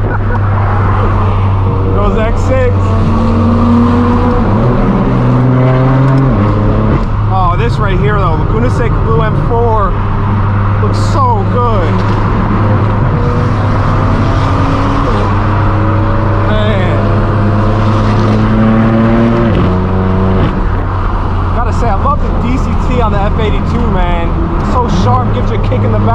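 A straight-piped BMW M4 F82 roaring loudly from inside the cabin, the engine note climbing through rising revs with sharp drops at gear shifts, continuous and droning throughout.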